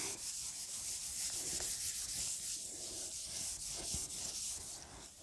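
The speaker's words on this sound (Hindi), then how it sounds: "अच्छा इसको मैं रब कर दूं" Steady dry rubbing of a duster or cloth wiping writing off a classroom board, a continuous scratchy swish running for the whole stretch with no voices.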